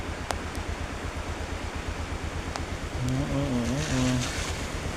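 Heavy floodwater after hard rain surges in a steady, loud roar, with a brief tonal whine rising over it near the end.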